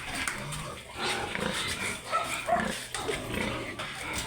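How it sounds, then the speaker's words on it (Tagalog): Pigs on a farm at feeding time, grunting and snuffling in uneven bursts over a murky background of movement and clatter, fairly close, with a faint voice now and then. "Yan, ako po yung magpapakain na ng baboy."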